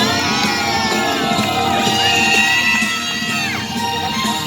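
A crowd of teenage campers shouts and cheers around a campfire at a summer retreat in Buyeo, a continuous loud chorus of whoops and yells close by.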